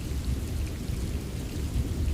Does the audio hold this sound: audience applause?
no